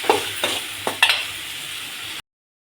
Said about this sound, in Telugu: బాగా రోస్ట్ అవుతుంది.